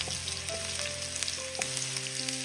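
Thinly sliced small shallots fry and get stirred in hot oil, giving a steady close sizzle with scattered scraping and clinking strokes throughout.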